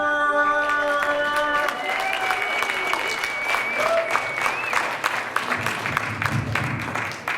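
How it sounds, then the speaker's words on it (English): Loud applause fills a comedy club as a comedian from Phoenix, Arizona is brought on for a stand-up set. Clapping runs steady through the whole stretch, with some crowd noise mixed in. "How about a nice big round of applause for Joel Cooper?"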